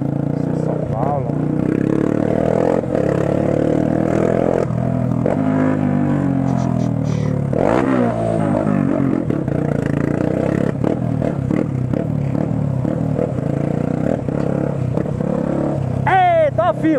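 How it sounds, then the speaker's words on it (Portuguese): Heavy São Paulo street traffic: many motorcycles and cars rumble and rev nearby in a continuous, dense mix, with clatter and scrapes, an engine rising in pitch near the end, and someone talking over it. "Muito carro, é muita moto, né, mano? Isso é São Paulo."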